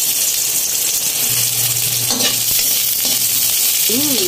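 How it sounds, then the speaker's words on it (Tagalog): Garlic sizzling and frying in hot oil in a pan, a steady close crackle with a brief stir and a faint utensil clink. "dahil mainit na po yung mantika, ilalagay ko na po yung bawang. I-brown po natin siya ng konti"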